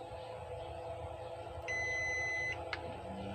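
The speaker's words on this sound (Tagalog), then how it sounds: "check natin sa buzzer" A single steady electronic buzzer tone from a continuity tester, checking contacts during a power inverter repair, sounds for about a second over a low background hum, followed by a brief click.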